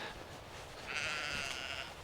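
A sheep bleats once on a farm, a short wavering cry rising over quiet outdoor background and lasting about a second.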